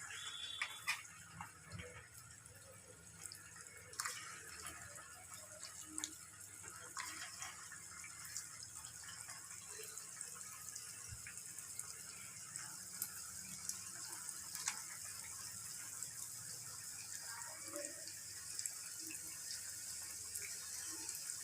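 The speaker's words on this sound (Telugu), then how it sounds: "మన ఆయిల్ బాగా కాగిన తర్వాత ఇలా వేస్తే అవి మనకి మంచిగా ఫ్రై అయిపోతాయి" Leftover-rice punugulu fritters deep-frying in hot oil, a steady crackling, bubbling sizzle with a few scattered pops, close and even throughout with no talk.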